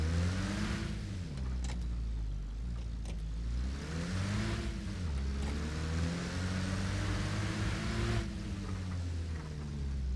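A vehicle driven in Arma Reforger, its engine a steady droning hum with rising and falling pitch as it revs and shifts, loud and continuous throughout with no talk.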